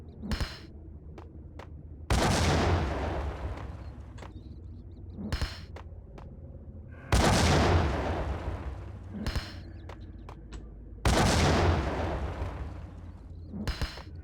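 Grenade explosions in the video game Max Payne, three heavy bursts spaced several seconds apart, each a loud broad blast decaying over about two seconds, with sharper gunfire-like cracks scattered between them.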